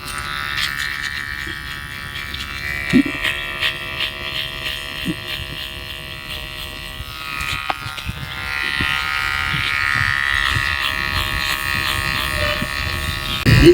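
An electric hair clipper buzzes steadily while cutting hair, its tone wavering and dipping as the blades pass through, with small clicks along the way.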